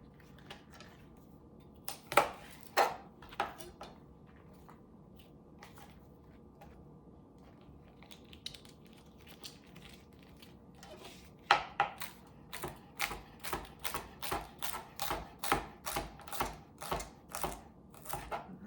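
A knife slicing cabbage leaves into thin chiffonade ribbons: a few scattered cuts at first, then a quick, steady run of crisp chops on a board, fairly quiet and close.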